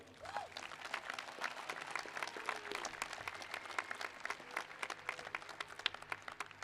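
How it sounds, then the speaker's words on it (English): Graduation audience applauding at a high school ceremony, a dense, steady wash of many hands clapping throughout, loud and sustained without pause. "Families, give your students give yourselves a round of applause for a job well done."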